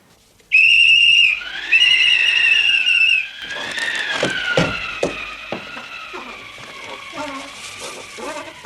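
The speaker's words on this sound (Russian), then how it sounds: "Кто свистел?" A person whistles two long, bright sustained notes near the mic, then the whistle trails off as a voice and other bustle take over.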